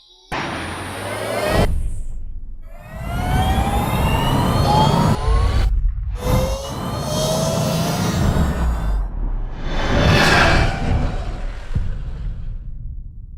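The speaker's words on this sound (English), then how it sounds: "What you just heard is the F77 Mark II." An Ultraviolette F77 Mark II electric motorcycle runs with a loud, jet-like rising and falling whine that comes in bursts, with a few sharp gaps between passes and no speech.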